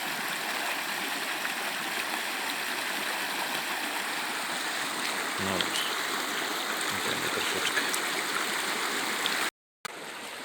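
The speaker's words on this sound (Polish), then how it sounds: "szum wody" Stream water rushes continuously nearby in a steady broad hiss, while a person speaks briefly over it, outdoors in Odesa, Ukraine.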